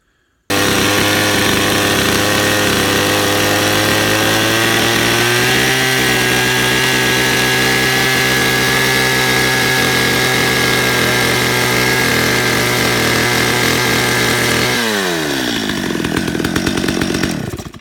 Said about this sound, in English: You need to cut a little bit of an edge on the end of the post, similar to the top one.